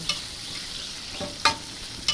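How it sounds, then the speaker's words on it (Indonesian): Close sizzling of soaked dried fish frying in hot oil, with a few sharp scrapes and clinks of a utensil stirring the pan. "Goreng ikan kering yang sudah direndam ya"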